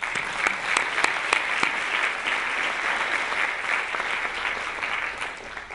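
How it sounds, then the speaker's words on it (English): Audience at a memorial plenary panel on Malcolm X clapping together: a steady, dense round of applause from a large room, even in loudness throughout, with no voices over it. "So please join me in a warm round of applause for our esteemed panel today."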